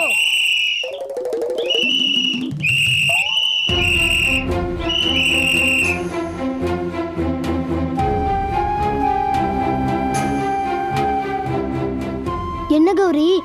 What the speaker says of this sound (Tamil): இவங்க வேற விசில ஊதி தொண்டை தண்ணி தீக்கிறாங்க